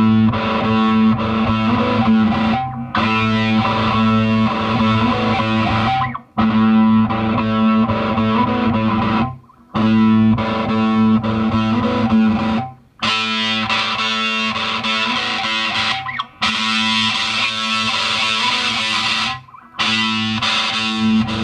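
Electric guitar played through a JHS Muffuletta fuzz pedal set to a Big Muff style tone, thick sustained distorted chords ringing in long held phrases with short gaps between them.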